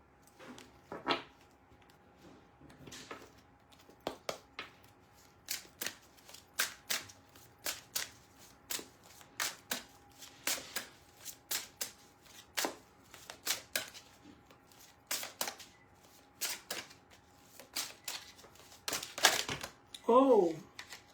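Oracle cards being shuffled in a quick series of crisp, papery riffles and taps, clustered bursts at an irregular pace, close and moderately loud, with a brief voice near the end.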